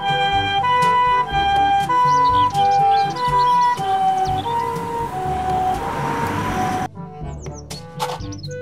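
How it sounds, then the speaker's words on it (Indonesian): A toy siren wails in steady alternating tones beside bright electronic chirps, then cuts off with a few chirps continuing. "Mobil ambulan."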